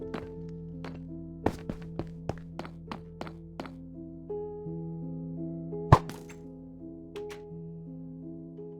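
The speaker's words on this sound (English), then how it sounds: "take this bow and shoot that target block to free the scientist" In the Minecraft video game, arrows from a bow thunk into a target block, a series of short sharp impacts at a steady pace over a sustained tonal music-like background, with one louder hit near the end.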